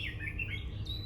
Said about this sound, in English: listening to the sounds of birds chirping